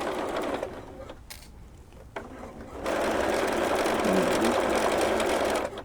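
A sewing machine stitches a hem along the cuddle-fabric backing of a holiday bench pillow cover: a short burst, then a pause, then a longer steady run of close, even mechanical whirring and clatter, with no talking.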